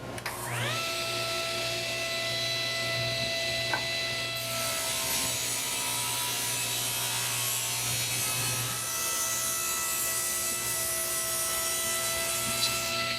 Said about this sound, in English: I will get the crosscut sled out and we'll cut them all to length.